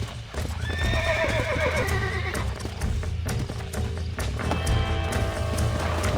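Horse in Red Dead Redemption neighs with a clear rising whinny, then a second whinny near the end, over steady fast clip-clop hoofbeats of a gallop, loud and close, with no talk.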